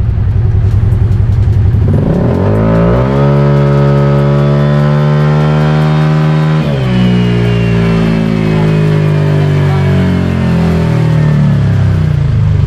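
Motorcycle engine held at full throttle, rising from idle into a loud, sustained high-revving wail that climbs steadily in pitch, briefly dips, then surges again, recorded very close with no voices.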